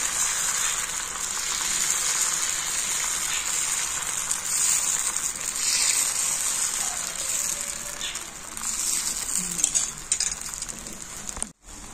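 Patishapta pitha batter frying in a pan gives off a continuous, close hissing sizzle that holds steady, with a few small clinks, then cuts off abruptly near the end.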